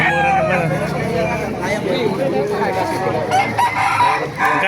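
A rooster crows loudly at a chicken market in Baliuag, Bulacan, its call cutting through clucking fowl and a busy babble of people talking and haggling nearby.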